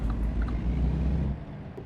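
Heavy truck engine in the American Truck Simulator game, a steady low droning rumble that holds loud and close, then drops slightly near the end.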